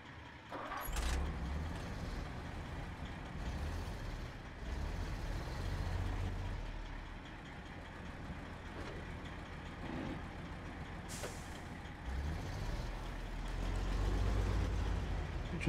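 A Western Star 6900 Twinsteer truck in the SnowRunner video game moves along with a low, steady engine drone that swells and eases, with occasional faint hiss and clunk sounds.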